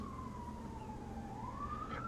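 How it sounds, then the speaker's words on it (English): A distant emergency siren wails faintly, its tone sliding slowly down then rising again over a low background rumble. "Got the police again, they're coming for me! Or, I think that's the ambulance."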